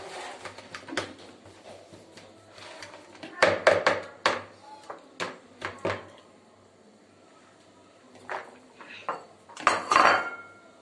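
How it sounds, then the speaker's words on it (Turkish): Fork mashing potatoes for a sausage sandwich filling, heard as scattered metallic clinks and scrapes against a bowl that come in irregular bursts, close and fairly quiet, with no talk. "Ben de ezecek olmadığı için çatal yardımıyla patateslerimi eziyorum."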